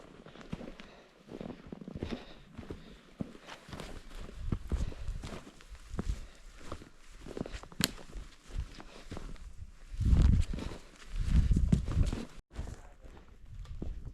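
Steady, uneven thudding hooves of a horse walking at a slow pace on soft, grassy backcountry ground, with a few louder heavy impacts near the end and faint outdoor noise.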